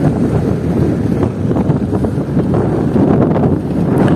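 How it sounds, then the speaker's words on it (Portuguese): Wind buffeting the microphone from a moving car on city streets, a loud steady rumbling roar with no talk over it. "Hoje vai ter um barulhozinho, o barulho do vento,"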